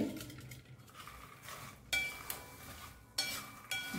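Spoon stirring spices into makhana (fox nuts) in a pan with the gas off, giving soft scraping and rustling broken by several sharp clinks against the pan, close and fairly quiet.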